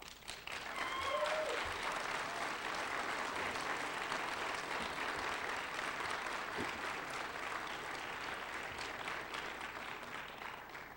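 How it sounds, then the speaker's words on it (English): Graduation audience at a 1997 Embry-Riddle Aeronautical University ceremony in Prescott breaking into sustained applause, a dense, even wash of clapping from a large crowd that holds steady for about ten seconds. "I'd like to give the graduates this opportunity to give all of them a round of applause"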